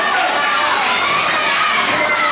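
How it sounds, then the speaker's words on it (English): Loud crowd at a TWF pro wrestling event cheering and shouting for wrestler Steve DeMarco, a dense, steady roar of many voices filling the hall with no break. "the crowd giving DeMarco a lot of positive energy right now"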